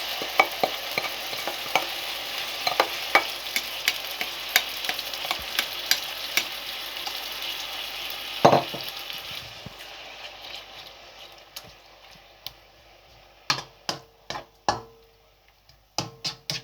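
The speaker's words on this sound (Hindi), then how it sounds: "अब मैं साथ ही इसमें गोश्त जो है मसाले वाला वो ऐड कर दूंगा" Spiced chicken goes into a pan of fried garlic and sizzles loudly, with frequent stirring scrapes and clinks over the steady fry before the sizzle quiets and a few sharp utensil knocks close it out.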